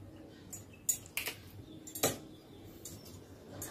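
Pasta sauce ingredients with vinegar and soy sauce being stirred together, with a few sharp utensil clinks against the dish over a soft, steady background.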